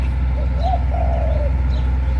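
An upset newly hatched bird chick lets out a pair of brief, wavering calls near the middle, close up above a steady low droning background.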